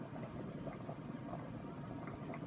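Beef chunks simmering in a pot of chili, a soft, steady bubbling and burbling that stays faint and even throughout with no voices over it.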